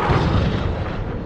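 A cruise missile explodes in the Modern Warfare video game: a loud, dense, rumbling blast that fills the whole moment, with no pause or voice.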